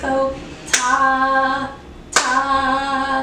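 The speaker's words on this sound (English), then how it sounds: "Clap and sing ta in half notes." Two sharp hand claps land about a second and a half apart, each followed by a voice singing a held note on the beat in a half-note music exercise.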